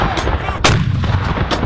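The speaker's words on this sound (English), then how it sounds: "These 75mm guns, which were once used for destruction," World War II 75mm guns of a ceremonial salute battery fire at a military cemetery, one loud, sharp, nearby boom with echo between fainter distant reports.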